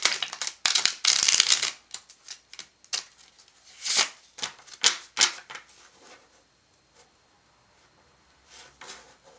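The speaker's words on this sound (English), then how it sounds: "I've already pre-shuffled all these, but I like to do it one or two more times." Tarot cards are shuffled in quick riffling bursts, crisp and close, then the flutter tapers into a few scattered soft taps and near silence.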